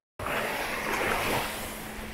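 Ocean surf at Hinugtan Beach in Buruanga, Aklan rushes in a continuous broad wash that starts abruptly and stays loud and steady, with some wind noise.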